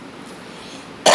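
One short, harsh cough bursts out near the end after a faint, quiet lead-in, close to the microphone and isolated.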